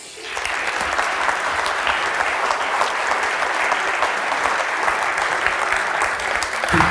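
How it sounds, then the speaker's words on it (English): An audience at a storytelling talk breaks into steady, sustained applause welcoming a speaker, dense clapping from a sizable crowd lasting several seconds at close range and fairly loud. "Everybody, please warm welcome for Jason."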